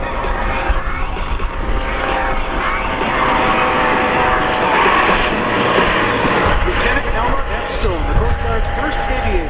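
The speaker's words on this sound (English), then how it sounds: "here comes your Coast Guard" A Coast Guard helicopter approaching at an air show, a continuous loud engine and rotor drone over crowd noise, with an announcer talking throughout.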